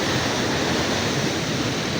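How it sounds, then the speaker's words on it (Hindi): Water rushing steadily through a canal near Lal Suhanra National Park in Bahawalpur, Punjab, heard as a constant close hissing roar with no voices over it. "देखो तो सही यहाँ से पानी जा रहा है"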